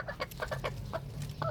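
Young Kelso and Black Bulik chickens clucking, a few short soft clucks and chirps in quick succession, close but quiet, over a low background hum.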